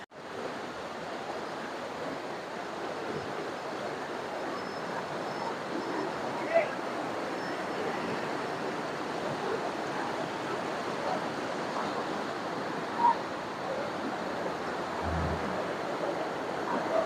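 Water rushes steadily along the stream below the Sungai Pisang waterfall in Malaysia, a constant broad hiss and roar lasting the whole stretch, with a couple of faint clicks and a low thump near the end.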